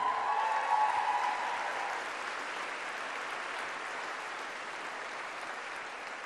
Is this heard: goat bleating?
no